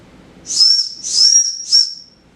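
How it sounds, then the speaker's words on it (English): A small whistle built into a Moikin 10-in-1 tactical pen gives three shrill, breathy blasts, the first two longer and the last short, close and loud with no talking. "you got a little whistle."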